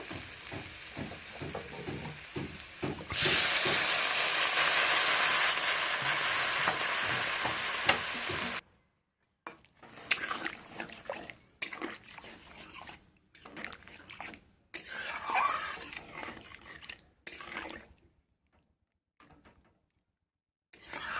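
Water poured into frying goat fat with peas sets off a loud, sudden hiss that settles into steady sizzling, followed by intermittent stirring and scraping with short quiet gaps.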